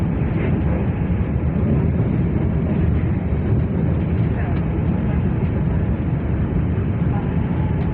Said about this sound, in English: Train of some description